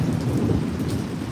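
Heavy rain pours steadily while thunder rumbles low and continuously beneath it, a dense and loud storm wash with no voices.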